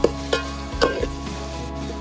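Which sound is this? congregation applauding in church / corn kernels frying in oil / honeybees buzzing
corn kernels frying in oil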